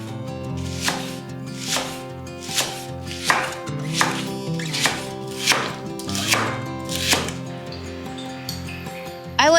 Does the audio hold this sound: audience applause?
no